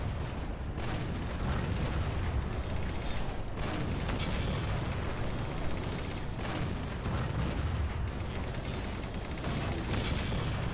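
Battle noise in Halo 4 with fuel rod blasts and mortar fire from hunters and grunts, a steady roar of rumbling booms and rapid impacts throughout, no voices.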